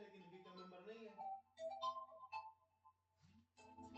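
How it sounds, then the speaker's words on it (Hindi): A phone rings during a maths lesson, playing a melodic ringtone of tonal notes at moderate to faint level, with a voice briefly heard alongside. "फोन बज गया"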